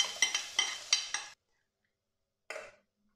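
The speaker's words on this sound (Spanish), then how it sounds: "Vamos a freír un poquito el ajito, la cebolla y el pimiento morrón." Garlic, onion and red bell pepper cook in a pot, with a spoon giving several rhythmic scraping strokes, then a pause and one last short stir, close and clear without talk.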